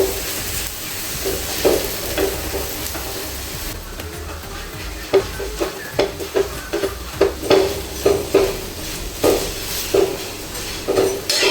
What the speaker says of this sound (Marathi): तर दुसऱ्या साईडनी असं भाजून घ्यायचं.